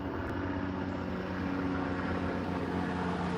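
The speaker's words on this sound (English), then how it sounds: "Helicopter, I hear a helicopter." A helicopter passes overhead outdoors, giving a steady, fairly loud rumble of rotor and engine noise for the whole stretch, with no voices.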